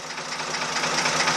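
A vintage narrowboat engine runs steadily close by with a dense, constant mechanical drone and no pauses or voices.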